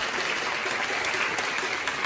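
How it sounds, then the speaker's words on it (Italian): Concert audience applauding at a live show, a dense, steady wash of clapping that holds at an even level throughout without a break. "fatemi un applauso"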